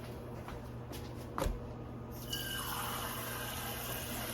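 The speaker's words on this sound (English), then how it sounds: "I'm gonna go ahead and add 2 cups of water to it" Two cups of water poured into a pot of rice for Spanish rice: after a quiet stretch and a brief knock, a steady, moderately close stream of pouring water begins and runs to the end, with no voices.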